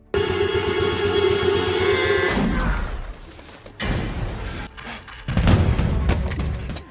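A film gunfight in an undercover police drug-bust scene, with several heavy, booming shots or blasts at irregular intervals breaking over a steady droning background.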